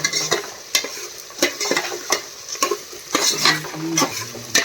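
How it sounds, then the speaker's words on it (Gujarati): Onions and potatoes frying in oil in a pot while rice cooks alongside, with a steady sizzle broken by repeated sharp scrapes and clanks of a spoon stirring against the metal, close and fairly loud, no voices. "બટેકા જો તેલમાં થોડા ચડ્યા ચડી ગયા"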